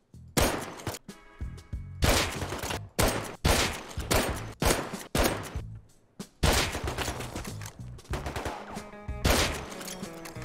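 Bursts of gunfire in a first-person shooter at an oil rig: loud, close volleys of rapid shots in repeated clusters, separated by brief pauses, with no talk.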